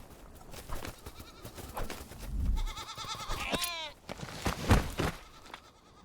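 Goats in the video game Survival: Fountain of Youth give wavering bleats in the middle of the clip over busy, rustling game ambience, with a few thuds nearby.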